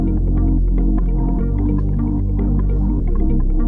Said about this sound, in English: We have this halftime effect here that's just taking, the effect is just on the high end.